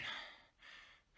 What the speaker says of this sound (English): Breathing so loud just to annoy me!